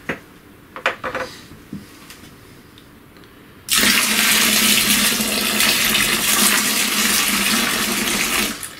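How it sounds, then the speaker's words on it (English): Cold water gushes loudly and steadily into a home brew fermenter being topped up, following a few faint knocks and clatters from preparation before the pour begins. "Top it up with some cold water."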